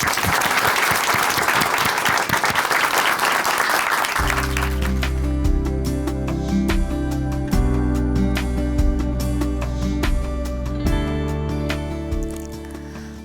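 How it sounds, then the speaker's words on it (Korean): Loud audience applause in a church for about four seconds, then fades as sustained music begins and continues to the end. "박수로 모시겠습니다"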